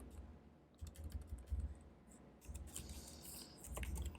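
Fingers typing a command on a computer keyboard, a quiet close run of quick key clicks in short irregular bursts with a brief pause midway, no talking.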